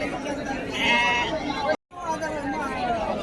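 Sheep bleat repeatedly at a busy livestock market in Kashti, with a crowd's chatter and voices around them and a brief drop to silence midway.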